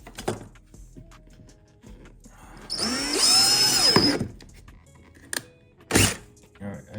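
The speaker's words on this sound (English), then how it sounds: "I just wanna punch through so I know where my hole is, and then I'll drill from the other side again." A power drill whirs loudly for about a second and a half, rising in pitch, as it punches through a car's rear bumper, with a short burst later and some handling knocks around it.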